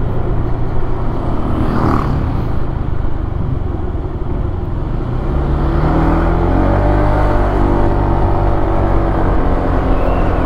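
A motorcycle carries riders through city streets, with a child sitting on the fuel tank: a loud, steady engine drone with wind rush, rising in pitch midway as it speeds up, with almost no talk.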